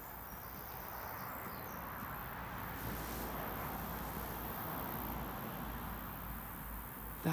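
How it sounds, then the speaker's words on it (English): Grasshoppers calling in a British hedgerow in midsummer, a continuous faint high chirring spread over a soft outdoor hiss, steady throughout with no voices. "That is the sound of the grasshoppers calling."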